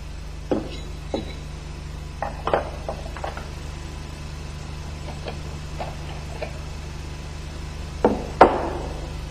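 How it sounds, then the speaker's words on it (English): Parts of an MZ 250 motorcycle clutch are taken apart: sparse metallic clicks and taps at close range over a low steady hum, with a sharper clank near the end. "Dismantle the clutch into its component parts."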